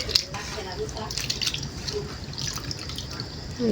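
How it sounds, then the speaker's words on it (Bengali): Fresh freshwater fish, muddy from the water, are rinsed with hot water in a sink, giving close splashing and dripping with small trickles, while a person talks over the washing. "লবণ টবণ দিয়ে তো আমি একটু ভালো করে গরম জলটা ধুয়ে দিচ্ছি যেহেতু নতুন জলের মাছ কাদা জল বেরিয়েছে আরও ধুতেই হবে"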